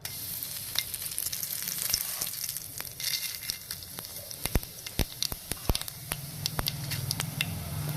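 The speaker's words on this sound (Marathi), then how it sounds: "त्यात आता आपण कढीपत्ता आणि जिऱ्याची मस्त फोडणी देणार आहोत" Curry leaves and cumin seeds crackling in a teaspoon of hot oil for a horse gram soup tempering, a close sizzling hiss broken by sharp spattering pops and a few spoon knocks.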